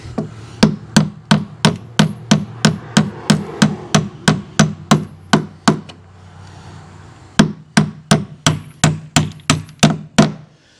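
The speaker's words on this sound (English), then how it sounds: "I'm going to just tap it until it just starts to poke through" A hammer tapping bolts through wood while building a self-serve firewood stand: a steady series of sharp, evenly spaced knocks, a short pause, then another quick run of blows, close and loud.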